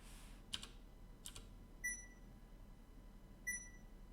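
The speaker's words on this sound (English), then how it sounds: "The lily pad is beeping us, which we don't want." Two short electronic beeps from a lily pad in a video game, a pair of high chirps spaced well apart, heard faintly over quiet background hiss with a couple of soft clicks before them.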